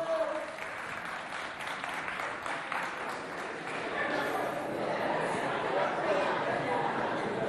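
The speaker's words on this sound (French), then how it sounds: "On l'applaudit bien fort" A school audience applauds at a student event, the steady clapping spread evenly over a crowd and continuing the whole time, with chatter and voices mixed in.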